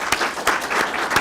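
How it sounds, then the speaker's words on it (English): A graduation audience at a supervisor academy ceremony applauds loudly and steadily, dense clapping close up with a few sharper peaks. "Please give them a round of applause."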